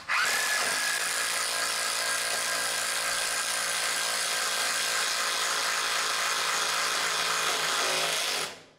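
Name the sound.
impact wrench drilling a 1.5-inch hole for PEX pipe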